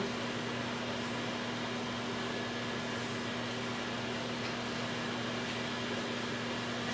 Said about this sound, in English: I couldn't hear past the microwave.